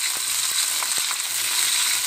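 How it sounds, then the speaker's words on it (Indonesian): Shrimp frying in hot oil in a wok, a continuous soft sizzle with a few sharp crackles and pops scattered through it. "Lalu panaskan wajan sampai panas, masukkan minyak dan tunggu minyak sampai panas. Kita goreng udangnya ya"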